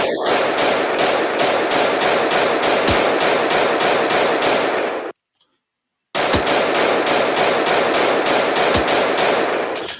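Sustained rapid automatic AK rifle fire in a video game, loud and continuous bursts that cut out briefly to silence for about a second before resuming just as dense.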